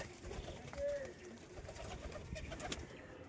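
Pigeons coo softly while being fed grain from a hand, faint low calls against a quiet background, with a few light rustles and taps.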